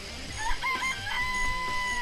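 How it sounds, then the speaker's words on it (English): Chickens in a coop in the video game Danganronpa cluck and crow in a few short, high calls over a steady background hum, fairly faint and without speech. "I remember there were some chickens in the chicken coop."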